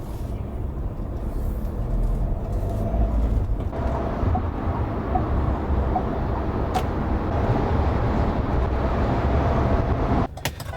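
Road noise fills the cabin of a manual pickup truck while driving, a steady low rumble and broadband hum with a few faint clicks and no talk.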